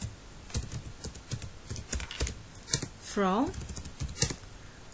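Fast typing on a computer keyboard, heard as dense, close clatters of keystrokes throughout, with a man's brief speech mixed in over the clicking.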